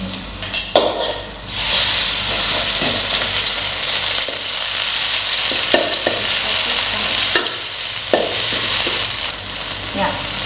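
Minced pork and curry paste are stir-fried in hot oil for a stink bean and shrimp dish, with loud crackling sizzle, repeated scraping strokes of a spatula and occasional clinks of metal against the pan.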